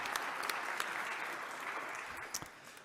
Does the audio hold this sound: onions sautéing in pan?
no